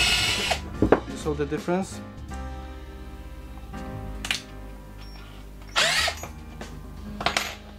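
An IKEA FIXA cordless lithium-ion screwdriver drill, 7.2V or 14.4V, runs in different gears, giving several short whirring bursts at changing speeds, close and loud, alternating with someone talking.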